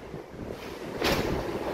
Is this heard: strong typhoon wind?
yes